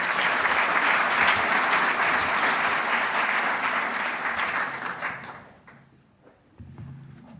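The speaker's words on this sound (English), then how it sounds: "let's give them all, for the record, a round of applause" Audience applause for the serving staff at an event fills the room as dense, steady clapping for about five seconds, then thins and fades out, followed by a few faint knocks and low background noise.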